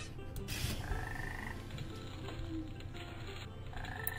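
Cartoonish frog croaking from the video game Wheely 6, short croaks against a busy game soundtrack of tones and effects, at low volume with no talking.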